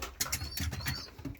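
Pigeons, some of them red, flap their wings in close bursts while being handled, with a few quick fluttering flurries spread across the moment and no talk over them.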